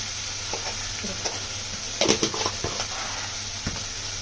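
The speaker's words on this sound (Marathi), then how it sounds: "मीठ टाकून परतायचं" Onion sautéing with salt in a pan for a Maharashtrian bhendi bhaji, a steady close sizzle with scattered stirring scrapes and a brief louder burst of spatula clatter midway.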